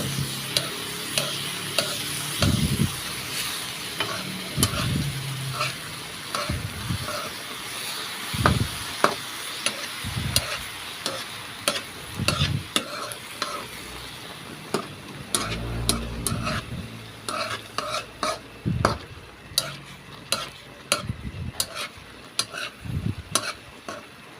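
Smoked fish (tinapa) and bitter gourd (ampalaya) stirred as they fry, with a soft background sizzle and a long run of irregular spatula scrapes and clacks against the pan.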